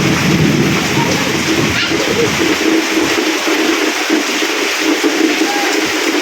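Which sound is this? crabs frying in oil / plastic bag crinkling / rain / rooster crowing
rain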